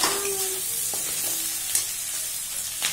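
Onion, garlic and ginger stir-fried in a little oil for chilli chicken, with a soft steady sizzle and a few stirring scrapes and clinks, mixed with faint background music.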